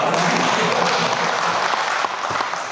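Steady applause from a crowd, dense clapping throughout that dips slightly near the end.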